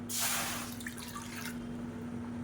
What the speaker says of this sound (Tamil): மெஷரிங் கப்பில் ஒன்றே கால் கப் அளவுக்கு தண்ணி சேர்த்துக்கலாம்